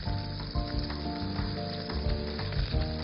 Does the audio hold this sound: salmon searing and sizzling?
yes